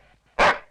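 A single loud, close dog bark, sharp and short, rising suddenly out of near quiet and trailing off quickly.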